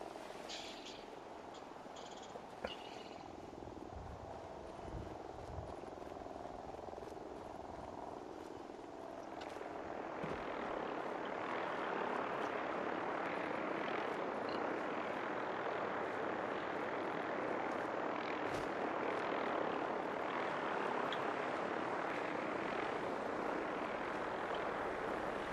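Helicopters circling in the Fallout 4 wasteland, a faint, steady rotor whir that grows into a sustained rushing drone after a quieter opening, distant and heard alone.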